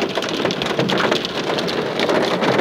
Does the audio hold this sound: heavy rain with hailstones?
yes